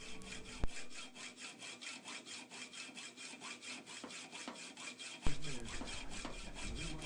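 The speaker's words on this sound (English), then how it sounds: "I think it might be time for a new hacksaw blade." Hacksaw cutting off a bolt during a Triumph T140 E motorcycle restoration, steady rapid back-and-forth rasping strokes in an even rhythm, close and fairly quiet, with a couple of sharp knocks.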